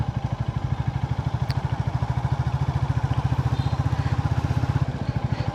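A motorbike loaded with about 15 kg of mangoes idles steadily on a village trip, its engine thumping in an even, rapid pulse, loud and close throughout with no talk.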